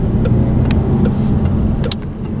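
A Peugeot 508 drives on the road, heard from inside as a steady low engine and road rumble with a few faint clicks and ticks from the cabin.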